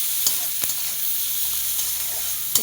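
Chopped onion fries in hot oil until soft, a constant close hiss of sizzling broken by a few sharp scraping stirs of the spatula.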